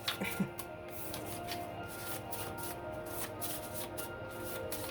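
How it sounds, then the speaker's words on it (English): Paper tarot cards being shuffled by hand, a rapid run of soft riffling flicks close up, followed by quieter repeated card taps and rustles with faint low background sound. "These are paper cards, so like the shuffling situation isn't great"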